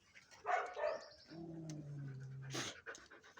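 A low growl from a dog behind a door sounds muffled and close, broken by panting and soft huffs, with no talking.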